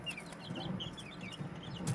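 Light Brahma chickens and chicks cluck softly together, with scattered high peeps and low murmuring clucks at a quiet, close range, no talk.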